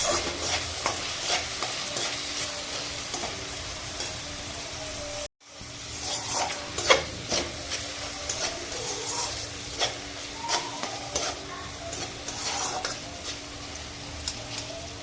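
Tomato sautéing in a pan for a dried fish and brinjal dish, an even frying hiss under frequent scraping stirs and light clinks of a spatula, briefly cut off once near the middle before resuming.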